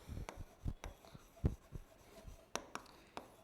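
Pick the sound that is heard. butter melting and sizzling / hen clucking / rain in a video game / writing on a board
writing on a board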